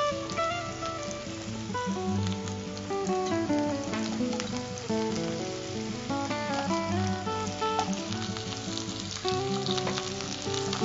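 Onions and drumsticks sautéing in a pan, a dense continuous sizzle with crackles, close and steady for the whole stretch, underneath background music.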